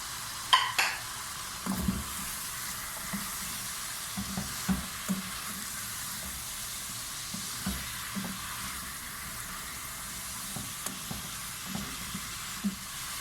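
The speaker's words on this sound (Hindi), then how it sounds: "2 मिनट पहले हम गाजर को डालेंगे और इसे अच्छे से फ्राई करेंगे ताकि ये सख्त ना रहे" Carrots stir-fried in a pan for chicken manchurian with a steady, soft sizzle throughout, with scattered light clinks and scrapes of a utensil against the pan and no talking.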